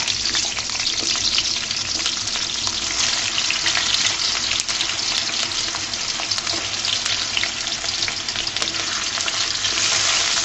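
Cut potatoes fry in regular soybean oil for bhindi aloo, a steady loud dense sizzle filling the whole stretch, with faint stirring scrapes and small pops scattered through it and no voice.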